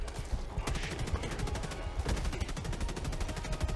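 Rapid bursts of gunfire from a Helldivers 2 firefight, dense repeated shots crackling continuously and close, with a few louder cracks standing out over a busy battle backdrop.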